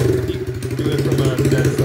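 An SSR 125 motorcycle engine runs rough and lumpy while flooding with too much fuel, a loud, close, uneven putter that pulses irregularly as it bogs.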